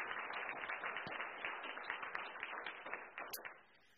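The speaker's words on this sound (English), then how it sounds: "Can we have another round of applause for our four guests up on the stage?" Audience at a panel event on loneliness applauds four guests on stage: dense, steady clapping that holds for about three seconds before thinning out toward the end.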